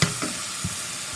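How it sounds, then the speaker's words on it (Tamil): Chopped carrot, beans and green chili sautéing in a hot pan for pav bhaji, a steady bright sizzle with soft stirring scrapes underneath, close and continuous. "ஒரு 2 நிமிஷம் இப்படியே வதக்குவோங்க."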